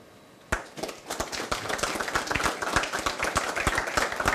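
A studio audience at a live Kinshasa television broadcast breaks into applause for a guest, sharp uneven hand claps starting abruptly and continuing steadily and loudly, with no talking.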